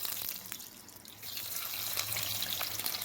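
Chopped onion sizzling in hot mustard oil with garlic and dried chilli, giving a steady close hiss of frying that grows slightly louder partway through, with no talking.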